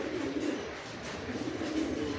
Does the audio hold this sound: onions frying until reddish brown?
no